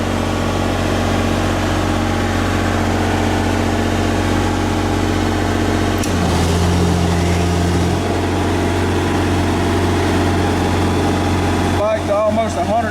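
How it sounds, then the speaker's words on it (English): A 5 hp 240 volt air compressor restarts while powered by a Miller 400D welder generator, whose engine drones loudly and steadily; the load shifts midway with a deeper hum as the compressor kicks in. "We're going to try to restart it. It has to bleed the air off the compressor."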